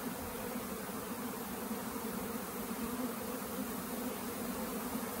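A honeybee swarm on a warm summer day, buzzing as a dense, continuous drone that stays even and close throughout, with no voices.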